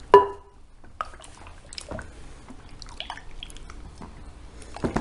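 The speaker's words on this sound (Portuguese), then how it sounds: "eu vou colocar os últimos 2 litros de água" Water is poured into a liquid soap base, giving faint, irregular splashes and drips after a brief louder burst at the start.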